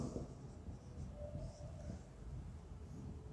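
Pen or chalk scratching out notes during a polity class lesson, a steady soft scraping under a low background rumble, continuous and fairly faint with no talk over it.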